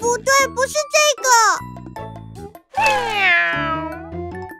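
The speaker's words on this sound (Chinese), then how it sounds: "那是小猫的叫声。" A cartoon kitten meows in drawn-out, high-pitched cries, loud and close, mixed with a childlike cartoon voice and a light musical backing.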